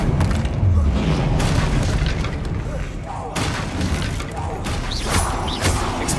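The Confringo fire spell exploding in Hogwarts Legacy: booming blasts and crashing impacts amid continuous combat noise, with a voice heard over the action.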